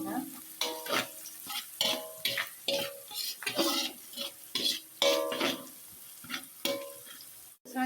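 Pieces of chicken stirred in hot oil in a pan for a teriyaki or oyster-sauce dish make a close, lively sizzle with repeated rhythmic scrapes and clinks of a utensil against the pan throughout.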